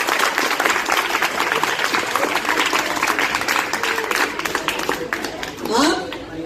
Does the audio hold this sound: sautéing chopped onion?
no